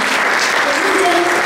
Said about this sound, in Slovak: veľký potlesk pre nich a pre Julku Potúdovú